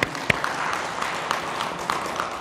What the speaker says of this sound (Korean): 큰 박수 한번 보내주십시오